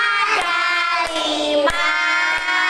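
A group at an early-childhood school event claps hands together in a slow, even beat of four sharp claps while voices sing loudly over them.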